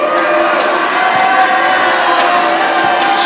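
A full house of Indonesian supporters fills a basketball arena in Malaysia with a loud, continuous roar of cheering and shouting, dense and close, with scattered yells rising above the din.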